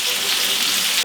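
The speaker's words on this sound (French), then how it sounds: "On met les oignons, on met les champignons," Onions and mushrooms hit a hot pan, a brief, loud, hissing sizzle that stays steady and close with no voices.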